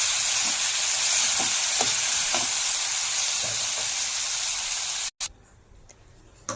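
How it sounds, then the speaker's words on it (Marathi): Ground masala paste sizzles in hot oil in a kadai over medium heat, a loud steady frying hiss with faint stirring taps, cutting off abruptly near the end to a quieter low sizzle. "त्याच कढईमध्ये आपण तेल गरम केलं आहे आणि मिक्सरवर बारीक केलेला पूर्ण मसाला त्याच्यामध्ये घालायचा आणि मीडियम गॅसवर परतून घ्यायचा."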